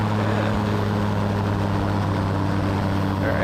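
A seaplane engine powering up for takeoff: a loud, constant propeller drone with a steady low hum that stays strong throughout, heard from close by inside the aircraft.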